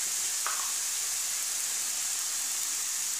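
Onion sizzling in a pan of hot oil, a steady bright hiss that stays even and close throughout with no voices.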